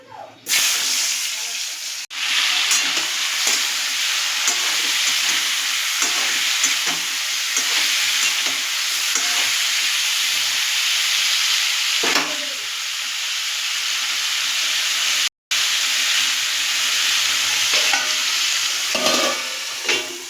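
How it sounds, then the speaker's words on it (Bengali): Pieces of raw jackfruit dusted with spice hiss and crackle in hot oil, a loud, steady broadband sizzle lasting throughout with occasional stirring scrapes and one brief dropout. "এবার ওটাকে আমি ভেজে নেব।"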